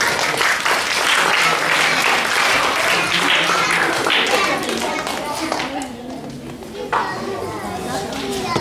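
An audience at a school annual day function applauds a girl named Poojitha. The crowded clapping is loud and continuous at first, then thins out, with children's voices and chatter mixed in.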